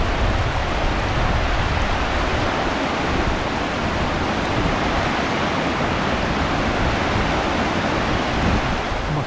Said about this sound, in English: the wind is getting wild and the rain is intermittent